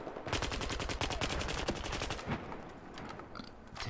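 Rapid bursts of assault rifle fire ring out in a shooter video game, loud repeated shots in quick succession for a few seconds before thinning into scattered quieter effects.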